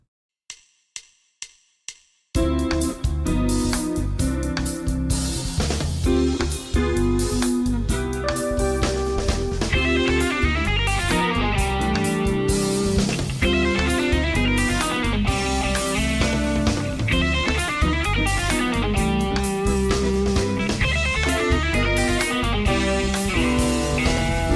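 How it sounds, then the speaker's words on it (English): Guitar playing a fast fusion jazz lick over a 2-5-1 with altered scale harmony at full speed, after a few sharp count-in clicks, then a dense continuous run of rapid notes with backing, loud and close. "This is a classic jazz line, sounds like this up to speed."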